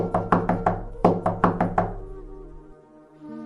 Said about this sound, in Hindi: तभी दरवाजे पर दस्तक होती है